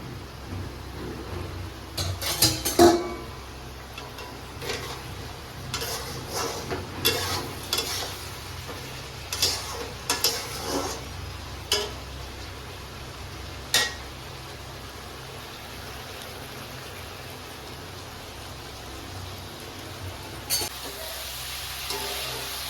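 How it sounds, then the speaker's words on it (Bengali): Homestyle mixed vegetables frying in a pan while being stirred: a continuous low sizzle with bursts of clicking spatula strokes that come in clusters, then fade to a quieter sizzle. "বন্ধুরা এই যে নাড়াচাড়া করছি ভাজা ভাজা হয়ে গেছে"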